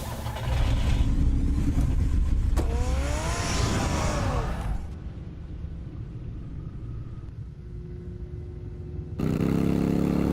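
A car drives in Batman: The Telltale Series, with a loud, steady engine rumble and a rising revving pitch, then a quieter idling stretch before the engine surges loud again.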